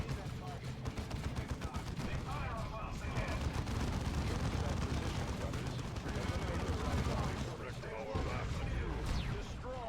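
Battle in the strategy game Dawn of War 2 with a grenade going off amid gunfire: dense, continuous rumbling blasts and rapid shots fill the whole stretch, loud and crowded, with no speech.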